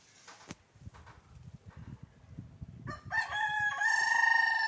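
Soft clucks and rustling give way to a loud, drawn-out rooster crow close by, its bright wavering call filling the final seconds.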